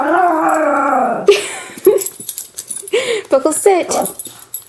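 Buckles the dog howls in long, wavering rising notes up close, then breaks into shorter yips and whimpers while a person gives commands and praise over him.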